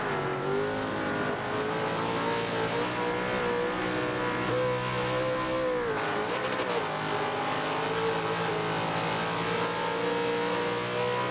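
Race car engines in a 1970s touring car racing game scream steadily at high revs, sweeping down and up through gear changes in a dense, continuous roar, with hints of tyre squeal and no one talking.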